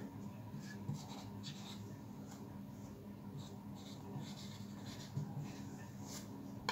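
A pen scratches on paper during a class 7 maths lesson, with faint, intermittent strokes at close range and no clear talk over them.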